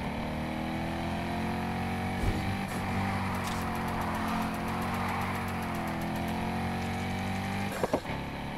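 Chevrolet Corvette Grand Sport engine in the video game Need for Speed Heat, droning steadily with gently shifting pitch at moderate volume, with a couple of brief knocks and no talk.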